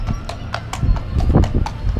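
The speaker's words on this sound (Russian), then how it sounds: "едет гужевая повозка" A horse pulling a cart at an outdoor equestrian complex clip-clops along in a steady rhythm of hoof strikes, fairly close and loud.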